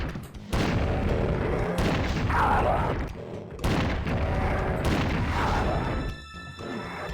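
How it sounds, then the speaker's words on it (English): Cyberdemon from Doom II battering the area with heavy rocket blasts: repeated loud booming explosions over a dense, rumbling backdrop of combat noise, coming roughly every couple of seconds. "And you probably heard a cyber demon too"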